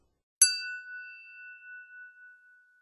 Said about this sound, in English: let's look at a simple example where a knife hits a wine glass